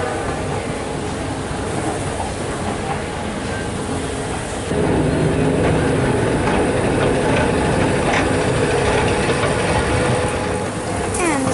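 A Kone escalator runs in a building alongside ThyssenKrupp elevators, giving a steady, continuous mechanical rumble and rattle that grows a bit louder midway through, with no talking.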